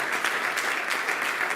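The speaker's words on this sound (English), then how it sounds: "Let's have one last big applause for Susie Sorova" Audience applause at the close of a panel discussion at an agile software conference, a steady, even wash of clapping held at a moderate distance with no gaps.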